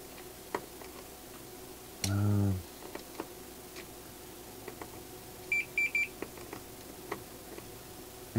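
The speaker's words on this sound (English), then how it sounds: "all you're going to need to hear is the beep." A continuity tester gives one short, steady beep as its probes touch connected pins on a Dumble Overdrive Special amplifier. A few faint, brief chirps follow in an otherwise quiet workbench setting.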